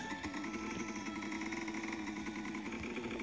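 Vehicle engine in a snow shovel simulator video game idles with a steady, low, pulsing drone, fairly quiet and unbroken for the whole moment.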